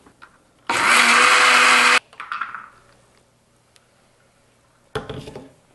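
A blender whirs loudly for about a second as it purees pickled cucumber, jalapeno and red onion marinated in vinegar and lime juice. Clattering and a lid or jar knock follow, then the blender gives a second brief burst.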